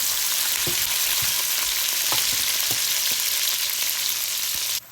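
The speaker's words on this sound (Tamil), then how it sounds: "இப்போ கடுகு வடித்த உடனே தாளிச்சுட்டு வெங்காயம், பச்சை மிளகாய், கருவேப்பிலை." Onions, green chillies and curry leaves tempering in hot oil after mustard seeds splutter, a loud, steady frying hiss with occasional light pops and spoon taps, cutting off abruptly at the end.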